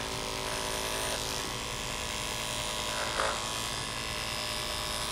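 Electric clippers buzz steadily and close while trimming a schnauzer's coat from the tail and rump upward, a continuous high motor whine with no breaks.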